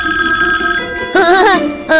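A telephone rings indoors in a school building: a steady warbling electronic bell in close, repeated bursts with brief gaps, loud and alone with no voices over it.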